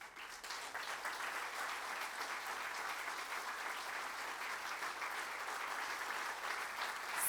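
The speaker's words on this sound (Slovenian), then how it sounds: "v dvorani podaljšamo aplavz" Sustained applause fills a hall at a formal ceremonial municipal council session, steady dense clapping at even strength throughout with no voices over it.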